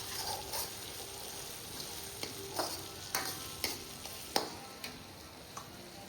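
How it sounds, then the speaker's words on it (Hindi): Garlic, cumin and asafoetida sizzle in hot oil in a pan as a tempering, a quiet steady crackle broken by light ticks and spoon taps against the metal. "उसके बाद लहसुन, जीरा, हींग से तड़का लगाया जाता है।"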